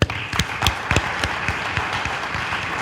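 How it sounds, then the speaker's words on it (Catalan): At a festival gala celebrating a filà's 25th anniversary, an audience applauds with steady crowd clapping, individual sharp claps standing out close by. "Demanem un fort aplaudiment per a elles."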